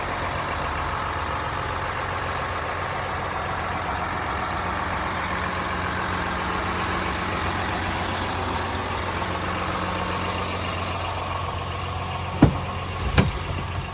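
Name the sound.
2007 Dodge Ram 2500 truck engine idling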